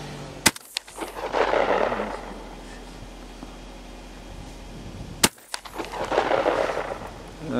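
A Fabarm SAT8 shotgun fires slugs at a 50 m range: two sharp, loud blasts about five seconds apart, each followed by a rolling echo that fades outdoors.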